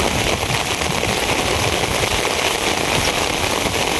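Steady, dense rain pours down on a village morning, a continuous close hiss and patter with no pauses and no voices.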